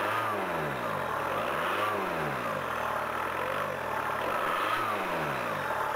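A diesel car engine fed starter spray after a repair or running out of fuel runs unevenly, its revs repeatedly swelling and sagging in slow waves, a close, steady mechanical drone.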